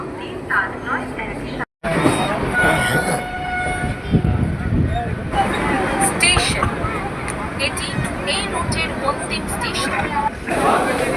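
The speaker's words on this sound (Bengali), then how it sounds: "এই যে ট্রেন চলে আসলো আমরা যাব এই ট্রেনে হাওড়া" A train pulls in at a platform of Liluah station near Howrah, its broad rumble and clatter of wagons filling the scene, with station noise, chatter and talk around it.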